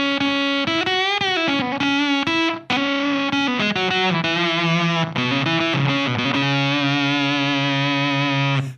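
A guitar runs through a Seeker Lineage Supa Fuzz pedal with the tone knob rolled fully back, giving a loud, steady fuzzy line of sustained notes with gritty edges and brief gated cutoffs between phrases.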